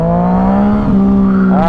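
A Yamaha FZ-09 motorcycle engine droning loudly and steadily close by, pitch holding then briefly dipping before climbing again in a short rev.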